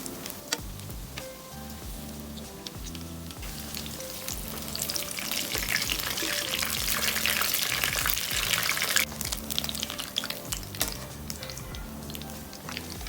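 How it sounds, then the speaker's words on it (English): Frozen ice cream balls fry in hot oil over high heat, a loud, dense, continuous crackling sizzle that swells in the middle, with scattered spoon clicks and stirring taps, close and with no voices. "now we're gonna fry them"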